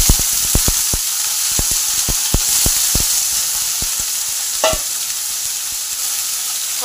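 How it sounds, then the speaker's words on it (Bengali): Cut potatoes and drumstick stalks drop into hot oil with five-spice, bay leaf and chili, giving a steady loud sizzle with a series of sharp spoon clicks against the pan, no voices. "এবার 5 ফোড়ন, তেজপাতা আর লঙ্কা আমার ভালো করে ভাজা হয়ে গেছে, এই সময় আলু আর ডাঁটাটা দিয়ে দিলাম।"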